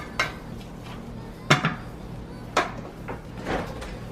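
Spoon knocking against a pot while seasonings are stirred for a two-cheese beef lasagna, a few sharp clinks spaced over a low kitchen hum, no talking.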